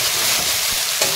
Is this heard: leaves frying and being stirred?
yes